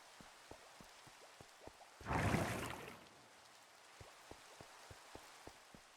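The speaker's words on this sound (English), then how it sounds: "Raining again." Rain falls in Minecraft, a loud burst of steady hiss swelling for about a second, then fading back to a soft wash of drops under scattered, regular ticking sounds.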